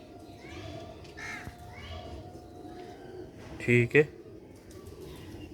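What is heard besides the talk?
Sialkoti silver pigeons cooing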